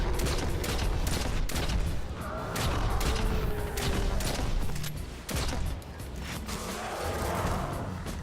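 Kindled Orchid hand cannon firing in Destiny 2, a dense, loud run of gunshots over game mechanism noise, with brief pauses between bursts and no talking.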